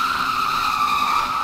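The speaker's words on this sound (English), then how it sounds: "Okay, so this thing can do burnouts" Tire squeal from a car doing a burnout in the Roblox driving game Greenville, a steady, loud screech held for the whole moment with engine drone underneath and no voices.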